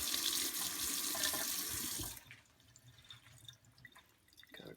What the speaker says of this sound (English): Rinse the knife.